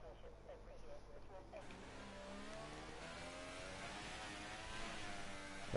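Force India F1 car engine in the F1 2018 game at the Canadian Grand Prix, a steady droning whine with gentle throttle, rising slightly in pitch and loudness toward the end, heard under commentary voices.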